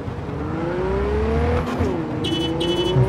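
A car in the game Cyberpunk 2077 driven fast, its engine a loud steady close whine that rises and shifts pitch as it accelerates, with a high electronic chirp near the end and no voices.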